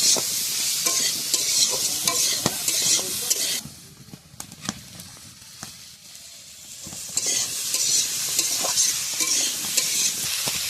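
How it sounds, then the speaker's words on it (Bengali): Potatoes and ridge gourd with salt and turmeric stir-fried in a pan over a wood-fired stove, a steady loud sizzle broken by clinking stirs, quieting briefly midway before the frying hiss swells again. "দেব পরিমাণ মতো লবণ, পরিমাণ মতো হলুদ। আবার একটু কষিয়ে নেব।"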